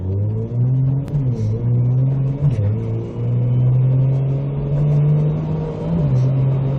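A Toyota MK4 Supra fitted with an ISF 8-speed automatic transmission shifting on its own: a loud, steady engine drone heard from inside the car, with brief dips and jolts in pitch at each gear change, about three shifts.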